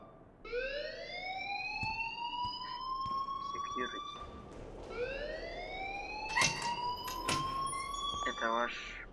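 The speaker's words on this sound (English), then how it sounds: "please turn off that alarm since that's your job" A school fire alarm in the video game Life is Strange wails in two long rising sweeps. It sounds piercing and insistent, with people talking over it and some clatter in the background.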